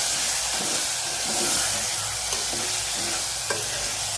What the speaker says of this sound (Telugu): కొంచెం పసుపు కొంచెం ఇంగువ వేసి మొత్తాన్ని కలుపుకోవాలి